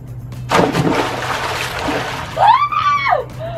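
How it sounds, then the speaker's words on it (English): A person jumps onto a deflated pool float and splashes into the water, a brief splash followed by churning, sloshing water, with a short squeaky vocal sound near the end. "I have to jump on pool float number 1, which is deflated"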